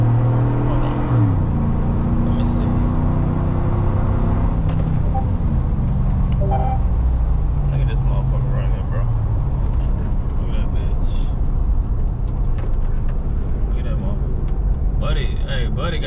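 A truck engine droning steadily as the vehicle drives and speeds up to catch a car ahead, loud cabin road noise with the engine pitch shifting, someone talking over it.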